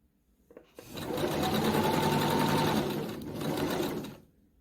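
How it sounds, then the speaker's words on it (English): A sewing machine runs a single continuous burst of stitching along a French seam with a quarter-inch allowance on a caftan dress, its rapid motor whir close and steady, easing briefly before finishing. "we're going to stitch along the seam with a small seam allowance, about 1/4 inch"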